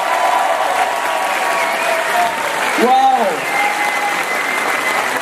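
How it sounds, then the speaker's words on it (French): Dense crowd applause at an outdoor human-wave tribute gathering, continuous throughout, with a voice rising in an exclaimed shout midway. "on peut-tu leur donner une bonne main d'applaudissement aux Français?"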